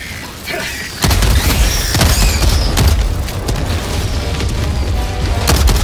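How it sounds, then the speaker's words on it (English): An orbital strike explodes in the video game Helldivers 2: a sudden loud boom hits after a quieter opening, then rumbling blasts and mechanical clanks continue at high volume with no speech. "Firing orbital strike."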